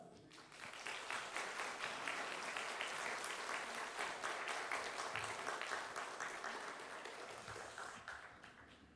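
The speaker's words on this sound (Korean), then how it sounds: "우리 목사님 나오실 때 크게 박수로 환영해 주시기 바랍니다" Church congregation at a summer revival meeting clapping loudly to welcome the pastor, a sustained burst of many hands that swells quickly, holds steady and tapers slightly toward the end, with faint voices beneath.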